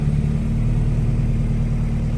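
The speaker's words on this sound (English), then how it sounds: "We're just just idling it like this. Let it warm up" A Honda B20 VTEC engine fitted with Skunk2 Ultra Street cams idles while warming up, giving a steady, even low rumble with a slightly lumpy pulse and no revving.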